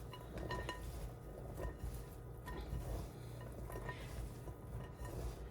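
Meats being tossed in a bowl, with steady clinking and scraping of dishes and utensils, moderately close, continuous with small rhythmic bursts and no talking.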